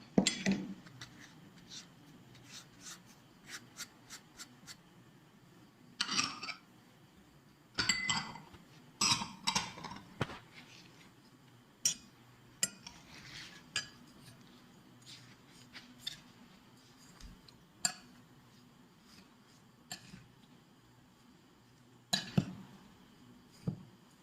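Mango pickle being stirred in a pot for a homemade Kerala-style preserve, heard as a string of sharp metallic clinks and scrapes of a spoon against the vessel, coming in irregular bursts with quiet gaps between.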